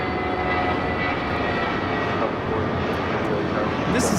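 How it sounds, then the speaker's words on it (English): Air Premia Boeing 787-9 Dreamliner departing LAX on a Seoul-bound flight, a steady, loud jet engine roar filling the whole stretch without letup, with people chatting faintly underneath. "This is Air Premia 102 taking off to Seoul on a 787-9 Dreamliner"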